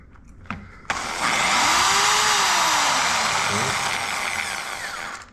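A drill switched to hammer mode bores into a wall alongside a dust vacuum, starting with a couple of knocks and then settling into a loud sustained grinding roar that dips and slowly fades.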